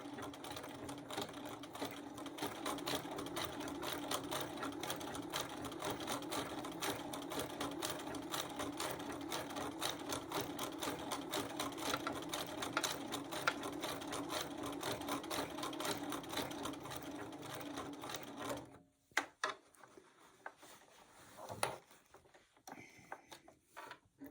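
A sewing machine runs continuously with a rapid, even stitching rhythm as it sews a wall hanging appliqué, close and steady for most of the clip, then stops, leaving a few light clicks and handling sounds.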